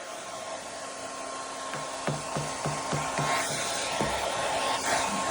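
A blow dryer runs without heat, giving a steady loud whooshing airflow, with a short series of light rhythmic tapping or rubbing knocks under it partway through.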